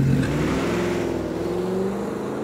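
A car speeds off with a steady, loud engine roar that rises slightly in pitch as it pulls away, continuous and close throughout.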